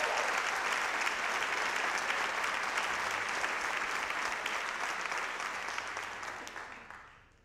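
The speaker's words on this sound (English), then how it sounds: "let's give him one more round of applause" A school instrumental concert audience gives a student conductor another warm round of applause, thick and even across the hall, then slowly tapering and fading to quiet over the last seconds.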